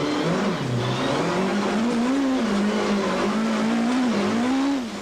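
An in-car recording of a Volkswagen Golf rally car on a muddy stage of the 2002 Tour Natal, its engine droning loud and continuous as the pitch rises and falls with throttle, with no voices heard.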